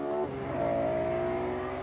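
A Lexus LFA supercar, a limited-production car, revs its potent engine in a steady, loud, near sustained drone that climbs and holds its pitch, with no talking.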